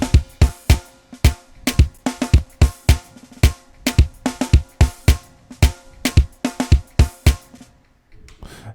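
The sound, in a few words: Addictive Drums software drum sounds in a MIDI arrangement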